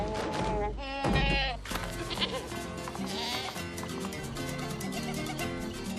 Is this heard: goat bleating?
yes